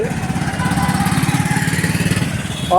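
A motorcycle engine idles nearby with a steady, throbbing putter that stays even and fairly loud the whole time.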